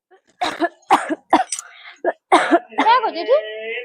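Several harsh coughs from someone with a cold, in quick succession, close and loud, followed by a short throat-clearing sound and a voice trailing off.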